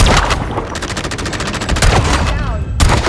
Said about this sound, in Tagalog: Ay ko, wala pa nga baril, binabaril na agad.